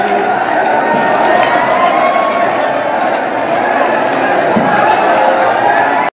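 A dense festival crowd packs the Barsana Radha Rani temple during Laddumar Holi, with continuous loud cheering, shouting and hubbub from many voices throughout.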